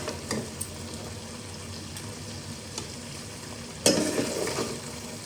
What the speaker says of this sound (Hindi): ये भिंडी निकाल के प्याज फ्राई करूँगी अपने इसमें